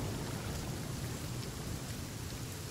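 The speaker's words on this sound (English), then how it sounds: "the rain didn't last that long this time" Rain falls in the survival video game The Flame in the Flood, a steady, dense hiss that stays even and unbroken throughout.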